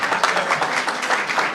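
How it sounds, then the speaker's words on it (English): Dense clapping from a crowd fills the moment, steady and fairly loud without pause. "Round of applause."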